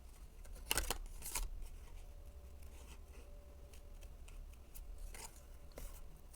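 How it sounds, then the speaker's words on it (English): Scissors snip through cardstock paper while making a festive gift tag, a few brief crisp cuts and rustles over a quiet room background, with no voices. "Now I'm moving my paper, not my scissors."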